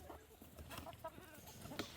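A farm chicken clucking quietly in short irregular bursts, faint and fairly close, with soft background noise from the barnyard.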